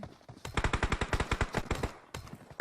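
Rapid automatic gunfire in a PUBG Mobile esports match, a fast string of loud, evenly spaced shots followed by a short pause and another burst.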